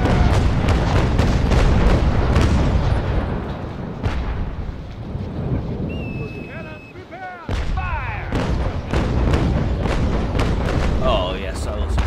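Cannon fire from the ship HMS Surprise in the naval video game Naval Action: heavy booming broadside shots in rapid succession, loud and close, then a quieter stretch with creaks and splashes before more blasts, with a voice talking over it.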